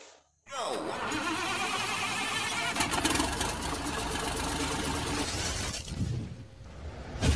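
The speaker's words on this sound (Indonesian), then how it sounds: "kita start dulu mesinnya guys." A Cummins QSK60 diesel engine starts after a brief quiet moment with a rising crank, then settles into a loud, steady, dense rumbling idle that continues to the end.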